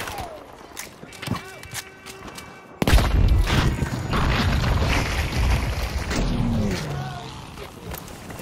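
A grenade explodes in Battlefield V with a sudden loud boom, and rumbling combat noise carries on after it. Gunfire crackles nearby.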